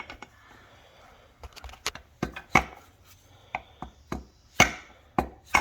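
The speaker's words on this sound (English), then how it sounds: "If we just find a good socket that'll fit over the top of that and just lightly tap it back in" A socket lightly tapped on an output seal to drive it into a 1964 Ford 4-speed manual transmission: a dozen or so sharp, close knocks in an irregular rhythm, some in quick pairs, with quiet gaps between.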